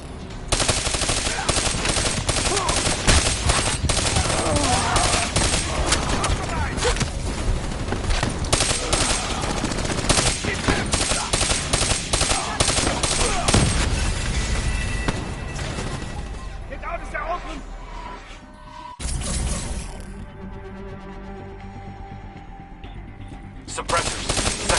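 Sustained automatic gunfire in the Black Ops 3 campaign, aimed at jets, rattles loudly and densely for most of the stretch before thinning out into sparser shots and mechanical noise near the end.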